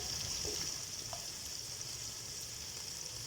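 Chicken and potatoes frying together in a pan: a steady, faint hiss of sizzling oil with a few soft stirring clinks, and no talking.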